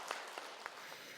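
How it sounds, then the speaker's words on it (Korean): Applause from a gathered Buddhist congregation greeting a newly formed executive board, a dense, even patter of many hands with a few sharper claps standing out, heard at a moderate distance. "이에 종도들은 박수로 화답했습니다"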